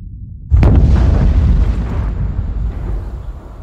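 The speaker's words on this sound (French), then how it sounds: "En cas d'explosion nucléaire au Blayais," A nuclear explosion sound effect: a sudden, heavy boom bursts out after a brief quiet, then rolls into a long, deep rumble that slowly fades.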